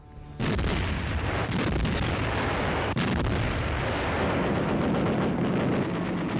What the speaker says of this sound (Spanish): toda la furia de la Luftwaffe y un bombardeo de la artillería cayeron sobre la ciudad